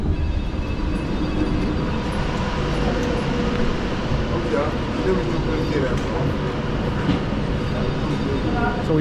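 Train pulling into Coventry railway station, a loud continuous low rumble of wheels and carriages with a rising whine, heard close from on board.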